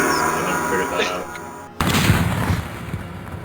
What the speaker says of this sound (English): Did you hear that gunshot?